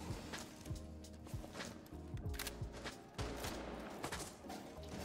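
Rapid gunfire from Rainbow Six Siege gameplay with the operator Kali, a dense fusillade of repeated shots with scattered footstep-like thuds, steady and busy throughout.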